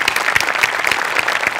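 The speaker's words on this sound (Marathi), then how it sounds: "वा जोरदार टाळ्या." A studio audience at a comedy show gives loud, dense applause, with many hands clapping steadily and evenly, close and continuous with no talk over it.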